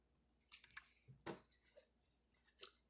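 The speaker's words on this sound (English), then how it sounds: "I'm going to cut off these ends here from the thread." Scissors snipping thread ends off a small handmade miniature pillow, several quiet close crisp snips spaced irregularly, with brief rustles between them and no talking.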